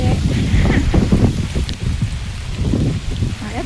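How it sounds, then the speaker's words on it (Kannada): Steady rain pours down with gusting wind in a loud, continuous outdoor wash of drops and rushing air that lasts from start to finish. "ಮಳೆ ಬರ್ತಾ ಇದೆ, ಮಳೆ ಬರುತ್ತೆ ಏನೆಲ್ಲ ಬರ್ತಾನೆ ಇದೆ ನೋಡಿ."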